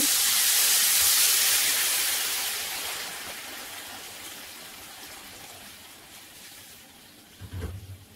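Water poured into a hot pan of turmeric-seasoned chicken tandoori rice, a loud steamy hiss that swells early then slowly fades, ending with a brief low knock.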